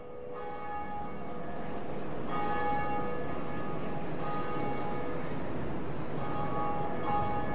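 A deep bell of awakening tolls in the video game Dark Souls with a long, ringing hum of overtones, struck again about midway and sustaining steadily, loud and alone with no voices.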